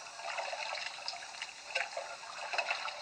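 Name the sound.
water trickling as a glass is rinsed in a sink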